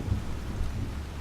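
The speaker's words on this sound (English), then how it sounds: "it is storming just like the first day we came" Thunderstorm with steady rain in the Skyrim fantasy game, a low rumble of thunder rolling under a constant hiss of rainfall, moderately quiet and continuous with no voices.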